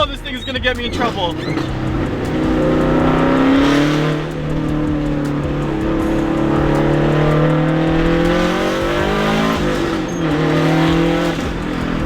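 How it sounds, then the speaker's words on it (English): A Subaru STI with a very loud exhaust revs and runs steadily with shifting engine pitch and a few early crackles, while people talk near the car. "Did you hear the backfires though?"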